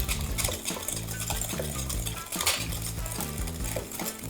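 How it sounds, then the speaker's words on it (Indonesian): Eggs beaten with sugar in a bowl for gluten-free chocolate chip cookies, a rapid rhythmic clatter of whisk against the bowl continuing steadily throughout. "telurnya ini kita kocok dulu sampai gula pasirnya larut"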